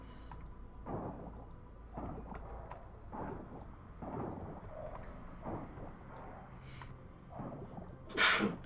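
A person sneezes indoors, with a series of short, sharp nasal bursts and snorts spaced a second or so apart and a louder final burst near the end, all fairly quiet.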